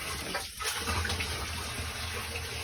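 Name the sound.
sewage water gushing from a basement sewage pump pit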